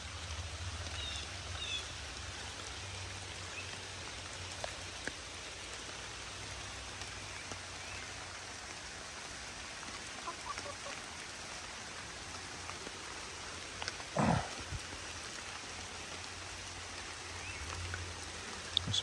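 Steady rain falls outdoors during foraging, a continuous hiss of drops hitting surfaces with a faint low rumble beneath and one brief louder knock partway through, with no talking.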